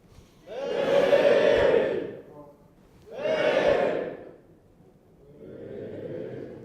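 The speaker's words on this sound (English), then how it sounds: "I put my hands up in the air and you all cheer" A conference talk audience cheers and shouts on cue in three bursts, two loud swells followed by a shorter, quieter one, with pauses of near silence between.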